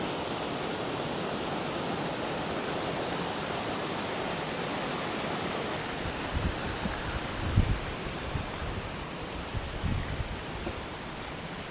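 Shallow stream water on a forest hiking trail on Vancouver Island, flowing in a steady, close, full rushing hiss, with a few faint footsteps and thumps toward the end.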